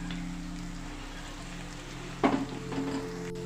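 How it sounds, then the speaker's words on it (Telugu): Capsicum pieces with sesame powder are stirred in hot oil, giving a steady soft sizzle and a brief louder scrape of the spoon near the end, with no talking. "ఈ పొడి అంతా వేసాక ఇలా ఒకసారి బాగా కలిపేసేసి చక్కగా ఈ పొడి అంతా ఈ క్యాప్సికం ముక్కలు పట్టేటట్టు"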